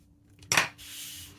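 Scissors snipping through packaging cut for a flip-out journal insert, one short crisp cut followed by a soft sliding rustle, close and quiet.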